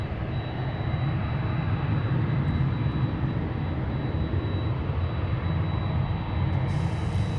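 A jet airliner takes off from a runway at Seattle airport, its engine roar a steady, broadband rumble heard from a distance and unbroken for the whole stretch, with no voices.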